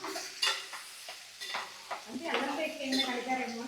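A prawn and egg curry is stirred in a pan, with scraping spoon strokes at irregular intervals over a soft sizzle, up close and without speech.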